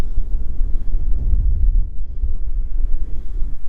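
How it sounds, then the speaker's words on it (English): Strong wind buffets the microphone on an open hill summit, a steady low roar with gusts swelling and easing throughout, close and loud with no voices. "Yeah, it is a bit windy."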